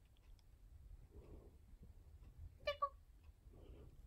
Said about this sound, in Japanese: 猫呼んでるよ。